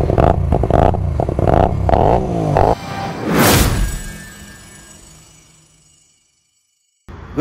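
A Hyosung Aquila 250 motorcycle with twin exhausts merging into one pipe revs several times in quick rising bursts, then one big rev sweeps up and fades away into silence, loud and close.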